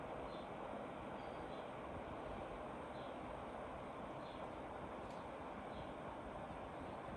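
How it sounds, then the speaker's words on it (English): A Llano laptop cooling pad's fan running at its minimum 300 RPM setting gives a steady, even broadband whoosh that holds constant throughout, with no talking. "The Llano cooler, once again in the minimum 300 RPM mode, seems to emit a similar level of noise."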